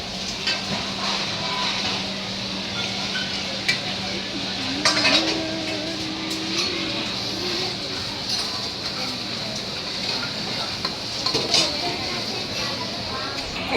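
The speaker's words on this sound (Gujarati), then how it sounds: "ચાલો તો આપણે પહેલાં ડીશ ધોઈ આવીએ" Plates and cutlery clink and rattle as people wash their own dishes at a Hindu temple dining area in Bhaguda, with a steady hum of running water, busy background chatter and occasional louder clatters nearby.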